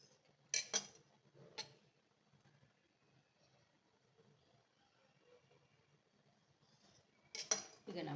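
Knife slicing through rolled wheat flour dough for shankarpali, giving a few sharp clicks as the blade meets the board, spaced apart around a quiet stretch, with faint speech in the background.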